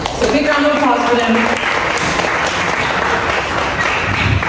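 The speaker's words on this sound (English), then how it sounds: "So big round of applause for them." Audience applause at a breast cancer awareness brunch fundraiser, a steady wash of clapping lasting several seconds with voices murmuring underneath.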